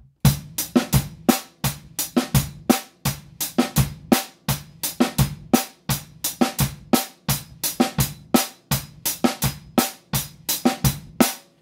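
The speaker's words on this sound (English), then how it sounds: "That soca beat sounds like this." A soca beat played on a drum kit: sharp, evenly spaced bass and snare strikes repeat in a bouncy, driving pattern, loud and close with no voices.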